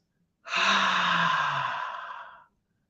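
A single long, deep exhale during a breathing meditation, close and clear, rising abruptly then trailing off over about two seconds with a soft airy sigh-like tone in near silence.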